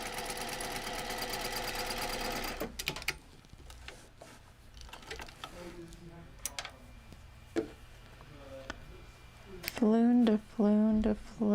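A sewing machine stitches a flower leaf in a fast, steady mechanical run for about two seconds before stopping, followed by quiet handling noises and then a person talking.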